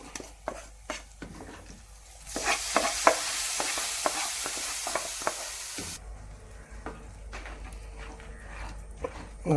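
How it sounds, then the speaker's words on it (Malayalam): Hot tempering hits a simmering Kerala-style colocasia curry with a loud burst of sizzling hiss, followed by repeated spoon stirs and clinks against the pot as the frying noise fades back to a quieter bubble. "അതിലേക്ക് നമ്മുടെ താളിപ്പ് ചേർത്ത് കൊടുക്കാം"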